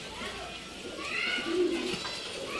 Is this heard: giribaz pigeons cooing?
yes